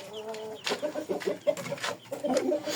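A rooster at a poultry seller's yard, in among Japanese and Korean chicken breeds, gives a nearby crowing call followed by several sharp, loud bursts, with cluck-like fowl sounds around it and no talk.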